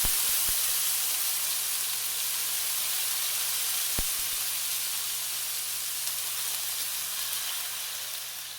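Crushed tomatoes hit hot garlic oil for a steak pizzaiola sauce, setting off a loud, continuous close sizzle and steamy hiss, broken by a couple of sharp clicks early on and easing slightly toward the end.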